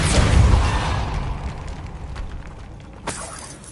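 A Depulso spell cast in Hogwarts Legacy, heard as a loud burst with a rushing, shattering blast that fades over a few seconds, followed by a smaller sharp crack near the end.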